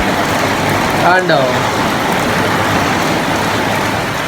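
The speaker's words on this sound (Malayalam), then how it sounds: "എന്തോ സൗണ്ടായിട്ട് ഞാൻ പുറത്തേക്ക് ഇറങ്ങി നോക്കിയപ്പോൾ നല്ല മഴ" Heavy rain pours steadily outside a house beside a coconut grove, a dense even hiss filling the whole clip while a voice speaks briefly near the start.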